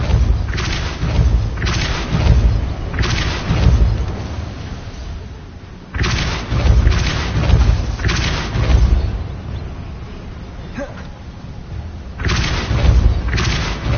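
In Hogwarts Legacy, the Depulso spell fires as a series of heavy, booming thumps in a repeating rhythm, each burst loud and dull with a rumbling tail over continuous game ambience.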